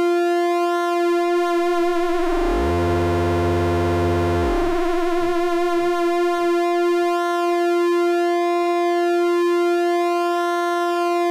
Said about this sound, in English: if I change the frequency of that, we'll hear how that modulation speeds up or slows down.